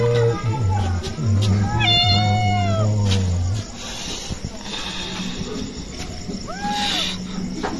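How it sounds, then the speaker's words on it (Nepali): A cat meows several times while a child holds it at home, the rising and falling calls fairly close, with talk and household noise underneath. "बिरालो औधी मन पराउने, बिरालो समाएर बसिरहेको छ बच्चा।"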